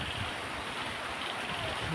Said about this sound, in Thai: ลมพัดนะครับ